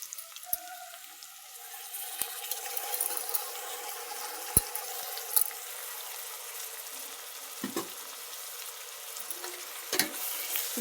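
Golden-browned onions with ginger garlic paste frying for chicken biryani, a faint steady sizzle broken by a few sharp clicks and scrapes of stirring, quiet and close with no voices.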